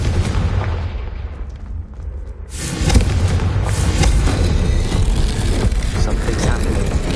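Confringo blasting spell from the Hogwarts Legacy video game, a dense roaring burst with a fresh loud blast about two and a half seconds in, then sustained rumbling debris and game noise.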